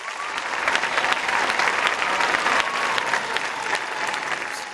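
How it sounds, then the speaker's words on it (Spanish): Sustained, loud audience applause at a festival presentation of the pregonera and zagalas for San Mateo, a steady dense clapping wash from a sizable crowd with no pauses. "les pido un fortísimo aplauso"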